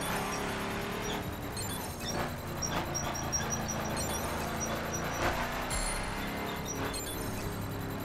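Car engine in the racing game The Crew, climbing a steep summit road at speed; a steady, loud engine drone runs throughout with shifting tones and faint clinks, no talk.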